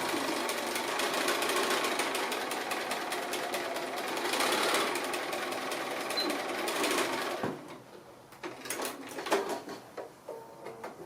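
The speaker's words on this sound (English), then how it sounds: "then we're just going to stitch across that edge" A sewing machine whirs steadily as it stitches across a fabric edge, a continuous close buzzing hum for about seven seconds, then stops, followed by a few soft handling clicks and taps.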